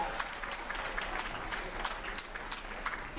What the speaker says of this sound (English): So give yourselves a round of applause right now